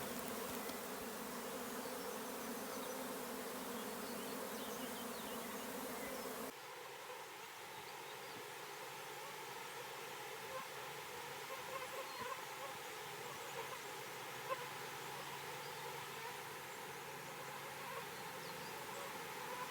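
A honeybee swarm hums with a steady, continuous drone of many wings throughout, loud and close at first, then a little softer after a sudden shift partway through, with no talking.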